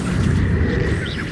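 A Confringo fire spell blast in Hogwarts Legacy goes off as a loud, close, rumbling boom that fills the whole short moment without a break.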